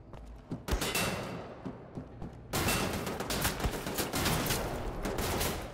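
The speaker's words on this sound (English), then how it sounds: "Who's shooting at me?" Repeated gunfire in the video game Wolfenstein: The New Order, starting as scattered sharp shots and then breaking into a loud, continuous barrage of rapid fire.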